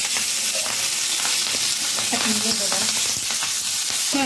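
Corn frying in a generous amount of hot oil in a pan, giving a loud, steady, close sizzle with stirring scrapes throughout.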